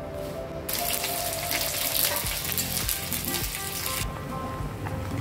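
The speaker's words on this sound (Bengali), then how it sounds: "এখানে আগে পেঁয়াজ বেরেস্তাটা করে নেব।" Onions frying in rice bran oil at low to medium flame for biryani, a steady loud sizzle that swells after a quieter start and fades slightly near the end, with faint water-like hiss and no talk.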